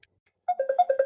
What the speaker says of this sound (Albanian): Ku ti bje telefoni? Ha telefonin,